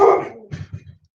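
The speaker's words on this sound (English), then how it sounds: "We're just going to have to deal with my dog barking for a minute." A pet dog indoors lets out a whining yelp followed by a quick run of three or four short, moderately loud barks that trail off into quiet.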